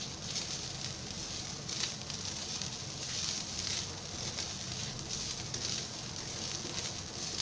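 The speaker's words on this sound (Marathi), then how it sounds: "हा मसाला चांगला तेलामध्ये भाजून घ्यायचा" Masala with ginger and garlic roasting in oil in a pan for a drumstick curry, giving a steady, close sizzling crackle that holds at an even level throughout with no voices.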